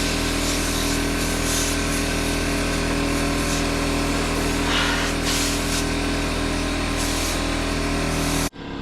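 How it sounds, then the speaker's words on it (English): Compressed air roaring steadily against a dirty radiator on farm equipment, a loud continuous hiss over a running engine's drone, with a few brief surges before cutting off abruptly near the end. "I am gonna continue to blow out this radiator because she's dirty"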